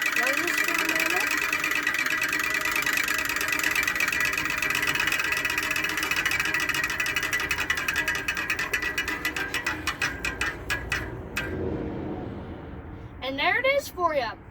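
A homemade engine idles with a steady whirring, buzzing mechanical drone that slowly fades and sputters out near the end, and a voice joins at the close.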